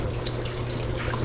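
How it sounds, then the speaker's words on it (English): Water pours steadily into a pan of browned flour and oil while Southern brown gravy is made from scratch, a close, continuous rushing splash with no talk. "And then add water."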